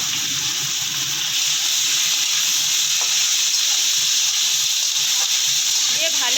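Boiled figs and potatoes sizzle and fry in a pan for a vegetarian fig curry, a loud, steady hissing crackle close up that runs throughout with no talk over it.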